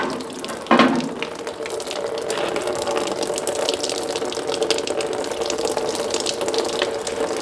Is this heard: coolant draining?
yes